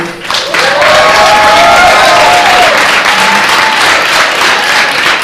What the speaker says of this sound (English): I'm going to say that again so you can clap some more.